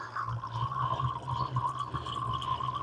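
Water from a hose steadily filling a wheelie bin water tank for a petrol jet wash, a soft continuous gurgling trickle, quiet and close.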